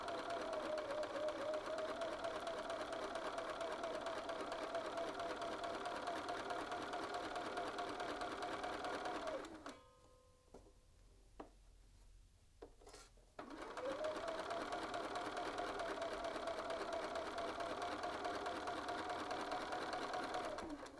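A sewing machine stitches the button band of a shirt, a steady, fast mechanical hum running continuously, then pausing for about four seconds before starting up again at the same even pace.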